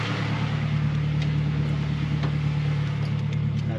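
A Honda G23 VTEC car engine idles not yet at normal operating temperature, a steady low hum with an even throb, loud and close with no speech.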